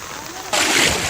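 Heavy rain pours and splashes onto flooded ground in Bettiah, Bihar, as water enters the GMCH hospital; a quieter wash of rain suddenly swells into a loud, steady hiss of downpour that continues to the end.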